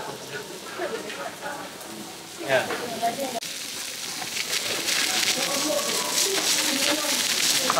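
Beef sizzles on a hot iron plate at a Pepper Lunch restaurant in Tokyo, a steady crackling hiss that swells louder toward the end, with a clatter of utensils and a person talking over it.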